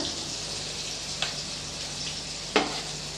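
Onion sautéing in a pan for chana masala crackles with a soft, continuous sizzle close by, broken by two brief scrapes of a spoon stirring, and no talk.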